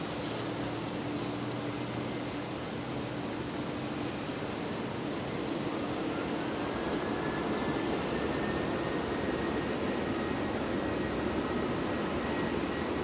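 A Qantas airliner takes off from runway 01 right at Brisbane International Airport, its engines building into a loud, sustained roar.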